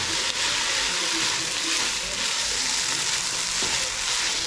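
Food being stirred in a frying pan with soy sauce and barbecue sauce, a dense continuous sizzle with faint scraping of the stirring, close and steady, with no one talking.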